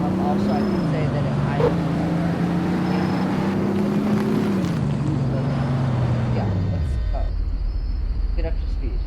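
A sporty car in a video game revs up, its engine note climbing and shifting through gears in stepped rises before dropping to a low idle, loud and continuous with talk faintly over it.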